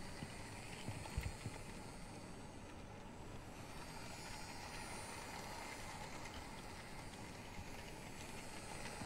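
A toy train runs along its track in the video game Life is Strange 2, a continuous rumbling, clattering rail noise with faint tapping, steady and moderately loud throughout.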